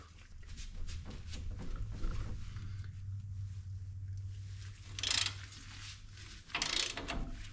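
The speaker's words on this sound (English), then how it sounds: "Okay, now I'm going to loosen the lower shock absorber." Ratchet work loosening the lower shock absorber bolt on a third-generation Toyota Tacoma front suspension, heard as faint mechanical clicking over a steady low hum, with two brief louder ratcheting bursts near the end.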